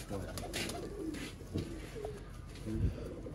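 Champion shy pigeons coo softly and repeatedly, low throaty calls close by over faint background noise.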